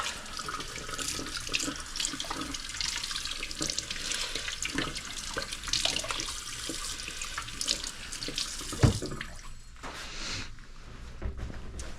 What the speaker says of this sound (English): About to do a lot of dishes while we're waiting.